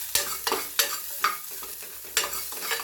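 Cabbage and lentils frying in a pan are stirred in a handful of sharp scraping strokes, each one a brief sizzling scrape with soft frying hiss in the gaps between them.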